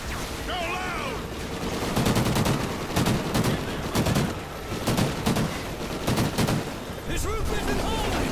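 Rapid bursts of gunfire from Call of Duty: Ghosts ring out in repeated volleys at close range, loud over a continuous background of battle noise, with voices shouting in between.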